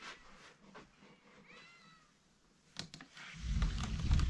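A cat meows a few times, faint and thin, against quiet background noise, followed by a louder low rumble of movement near the microphone.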